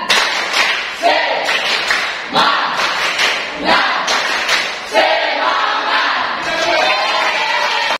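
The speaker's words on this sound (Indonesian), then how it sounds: "Tepuk semangat." A classroom group performs the 'tepuk semangat' clap chant, a rhythmic pattern of loud hand claps in bursts with voices shouting along between and over the claps.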